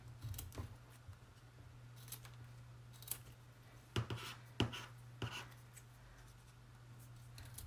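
Scissors snip through craft material for a layered paper mandala, a series of sharp, close cuts at irregular intervals over a steady low hum, with soft rustling between snips and no talking.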